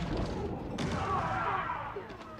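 A siege weapon fires a single shot in Age of Empires IV, giving a fairly quiet, muffled boom with a short crack partway through and a fading rumble.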